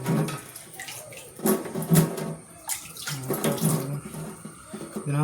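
Cover being washed under running tap water, a close splashing, gurgling stream that surges and fades unevenly as the item is moved through the flow.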